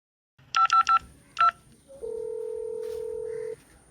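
Telephone keypad dialing: four quick tone beeps, a fifth after a short pause, then a steady electronic tone lasting about a second and a half, close and clear.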